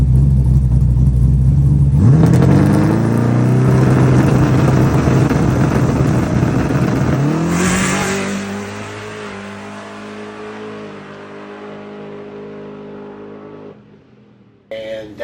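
An Outlaw 32 drag race car launches and accelerates down the track, its loud engine note climbing steadily in pitch as it pulls away, then fading into the distance before a short clatter at the end.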